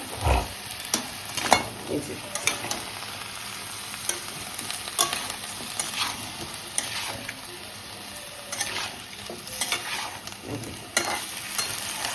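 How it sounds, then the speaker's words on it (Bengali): Ingredients for a chicken soup frying in a pan with just a little oil, a steady close sizzle broken by repeated stirring scrapes over about twelve seconds, with no voice. "সুন্দর করে এগুলোকে ভেজে নেব তেলই দেবো না হালকা তেলে ভাজবো"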